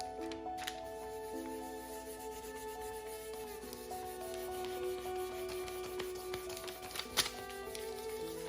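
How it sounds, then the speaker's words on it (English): Fine-grit sandpaper rubs steadily over a painted design on a thrifted home decor piece, a soft continuous scratchy rasp heard close up over a quiet background with faint music. "I also like to go over the design with a really fine grit sandpaper"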